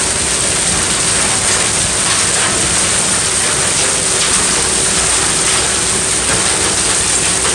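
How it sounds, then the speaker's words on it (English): Large hail pelting down outdoors in a steady, dense hiss, loud and continuous with no letup, close by and without voices. "look at the size of this hail"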